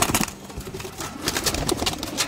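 A Sialkoti pigeon coos softly in a short, throaty burst, close to the microphone, with faint rustling around it and no talk.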